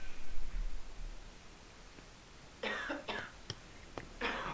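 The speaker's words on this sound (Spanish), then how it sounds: "Tiene tos como yo, mira." A person coughs several times in short bursts, fairly close and loud, heard during a stealth video game mission, with a quiet lull before the coughing starts.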